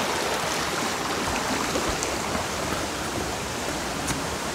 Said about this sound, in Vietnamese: nước chảy khá là mạnh